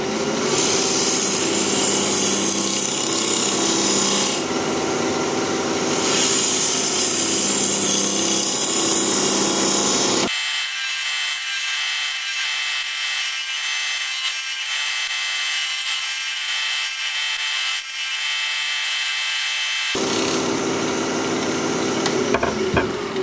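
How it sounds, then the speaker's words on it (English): A pine cone spins on a wood lathe at 2000 RPM while a half-inch bowl gouge cuts into it, giving a loud continuous grinding roar with abrupt changes in tone as the tool meets and leaves the surface. "We're going to be turning at 2000 RPM, half inch bowl gouge, mask and face shield on, even for this little guy."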